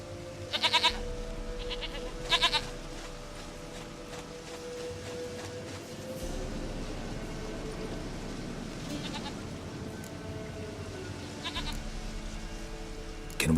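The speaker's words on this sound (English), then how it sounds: "Goat of mine, dearest, sweetest goat." Goat bleating in the video game Witcher 3: The Wild Hunt, a few sharp, nasal bleats repeated at intervals over a steady low game ambience and drone.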